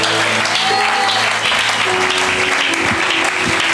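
Church congregation applauding loudly and continuously in a large hall, a dense wash of clapping with some crowd voices mixed in.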